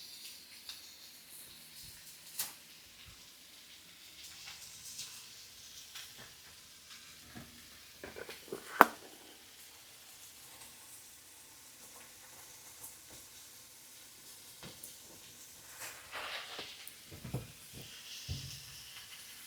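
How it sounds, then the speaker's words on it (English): Mushrooms being stirred in melted butter in a pan give a soft, steady sizzle with faint scraping and light clicks, a brief louder knock near the middle, otherwise quiet and close with no talk. "You're going to want to just stir those mushrooms around."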